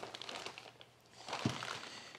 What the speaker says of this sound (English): Fairly heavy plastic bag, although the blade is cut through